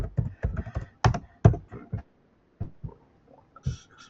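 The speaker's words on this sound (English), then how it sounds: "if I type jackets here" Someone types on a computer keyboard in a quick, irregular burst of sharp key clicks, with a short pause partway through and a few final taps, close and clear.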